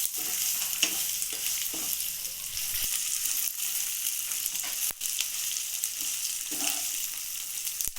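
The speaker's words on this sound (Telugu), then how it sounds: "ఇది బాగా వేగనిద్దామండి ఇప్పుడు" Ginger pieces fry in a pan with a continuous, close sizzle. Scattered clicks and scrapes of stirring run through it, with no talking.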